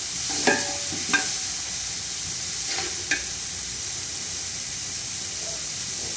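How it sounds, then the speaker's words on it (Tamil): Tomato, mint and coriander sautéing in a pan for coconut rice, a steady soft sizzle and hiss broken by a few brief scraping stirs of the spatula, close and moderately quiet with no talking. "தக்காளி புதினா கொத்தமல்லி இந்த அளவுக்கு வதங்கினா போதும்ப்பா ரொம்ப வதங்கக்கூடாது"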